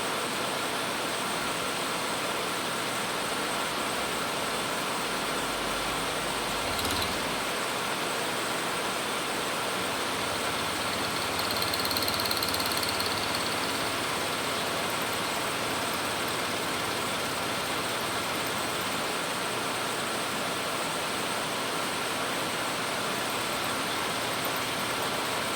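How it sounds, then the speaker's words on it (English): A milling machine skims the top of a vise, giving a steady broadband machining drone that holds at an even level throughout, with a faint higher whine and a brief low thump partway through. "Oh yeah, we're skimming the vise."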